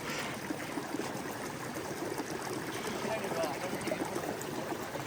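Clear mountain stream water rushes and burbles over stones in the Meghalaya hills, a continuous close flow with faint bits of voice underneath.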